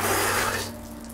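Water running steadily from a tap, a broad close hiss with a faint hum beneath, easing slightly as the flow drops near the end.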